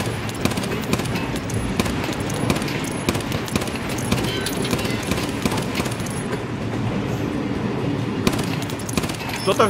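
Automatic gunfire rattles in the video game Escape from Tarkov, with dense rapid bursts over a constant rumbling, noisy bed throughout, loud and unbroken.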